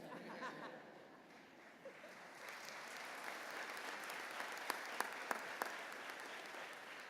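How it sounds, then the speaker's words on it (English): Sustained applause from a college commencement audience at Penn State Abington, a dense steady patter of many hands filling the space at moderate distance, with a few sharper claps standing out near the end. "I got some applause for that."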